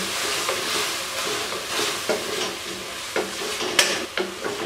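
Spiced chicken mixture with garam masala, crushed red chilli and crushed coriander sizzles and fries steadily in a pan, with a spoon scraping and clinking against the metal in several distinct knocks over the continuous hiss.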